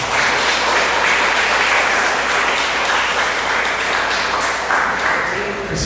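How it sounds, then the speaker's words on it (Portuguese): Loud, sustained applause from a church congregation fills the whole stretch, a dense wash of many hands clapping together at close range. "Aplauda Jesus bem forte."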